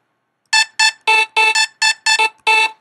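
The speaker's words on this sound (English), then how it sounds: "And it should sound like this when you just open it up in the NNXT," Raw synth 77 sample played in the Reason 4.0 NNXT sampler: a short sequence of bright, buzzy, slightly vocal-like synth stabs in a staccato rhythm, loud and alone.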